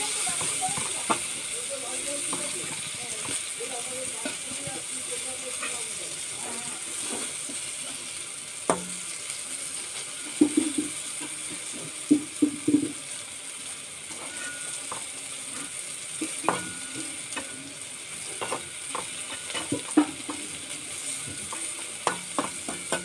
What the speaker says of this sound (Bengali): উচ্ছে পাতাটা নাড়িয়ে নিই।